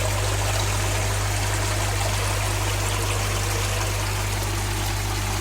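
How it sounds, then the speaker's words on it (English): Water spills steadily from a homemade trickle-tower pond filter through a moving bed back into a pond, a loud continuous close-up splashing wash over a low steady hum, with no talking. "Dripping straight back into the moving bed and then back out into the pond."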